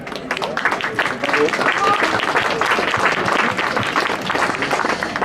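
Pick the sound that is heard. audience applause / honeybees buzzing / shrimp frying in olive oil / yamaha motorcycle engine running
audience applause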